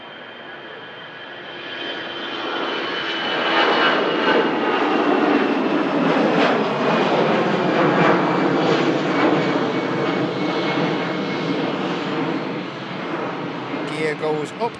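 A passenger aircraft at Manchester Airport roars steadily as it passes close by, a broad, loud engine rush swelling after a couple of seconds and holding before easing slightly at the end.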